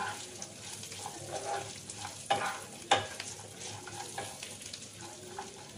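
Chopped almonds fry lightly in ghee for a festive vermicelli dessert, a faint, steady sizzle with occasional stirring scrapes and clinks close by, with no talking.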